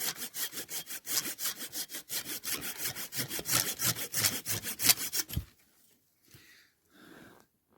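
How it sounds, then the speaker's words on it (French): Wooden logs, partly rotten inside, are cut with a hand saw outdoors. Close, rhythmic back-and-forth rasping strokes run quickly for about five seconds, then stop, leaving near silence with a few faint sounds. "Voilà comment je scie les bûches."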